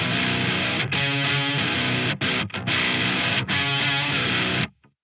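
Heavily distorted electric guitar through a Mesa Boogie Dual Rectifier-style amp simulation and a 4x12 Mesa Boogie cabinet, dense chugging chords with a few brief stops, loud and alone, ending in a sudden cutoff.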